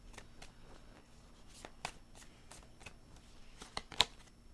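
Tarot cards are shuffled by hand in a run of quick, crisp riffles and slaps, close and fairly soft, with one sharper snap near the end.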